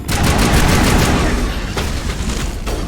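Rapid gunfire in the Mass Effect video game, a dense burst of loud, close shots in a fast rattling volley that thins out toward the end.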